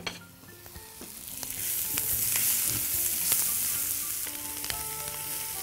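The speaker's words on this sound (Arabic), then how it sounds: "الصوص بصلة صغيرة، ادي البصلة اهي، معاها الثوم، وهنقلب الكلام ده كده مع بعضه" Chopped onion and garlic sizzle steadily in a hot pan for a creamy kofta sauce, with a spoon scraping and stirring through them in scattered knocks, close and fairly loud, with no talking.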